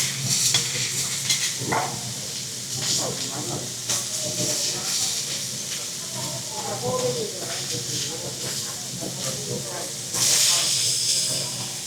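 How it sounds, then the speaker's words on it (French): Beef sizzles on a hot cooking surface as a chef prepares it in a Kyoto restaurant, a continuous crackling hiss with occasional sharper pops, mixed with background chatter and clatter in the dining room. "le chef est en train de cook. Écoutez juste comment ça crépite."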